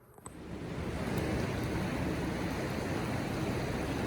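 Flowing stream water on the Appalachian Trail, a close, loud and steady rushing wash that rises quickly after a brief quiet start and then holds constant, with no talking.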